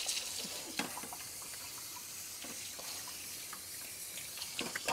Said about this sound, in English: Rinse all of this off right here.